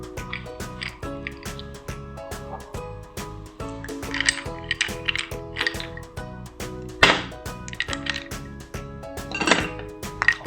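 Ice cubes clatter and clink into a shaker in short bursts, over a steady background of music.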